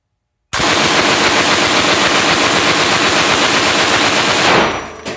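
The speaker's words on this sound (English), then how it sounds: "We got our L4 Bren in the shop today. Gonna run a 30 round mag through that." An L4 Bren machine gun firing a 30-round magazine in one continuous loud, rapid burst of automatic fire lasting about four seconds, starting abruptly and ending with a short ringing tail.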